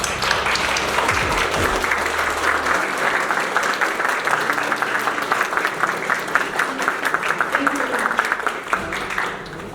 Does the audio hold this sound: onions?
no